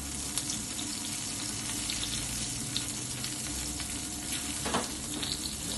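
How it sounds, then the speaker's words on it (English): Chicken stir fry sizzles in a pan with a close, constant crackling hiss and scattered sharper pops, alone without talk. "It's already sizzling away, isn't it?"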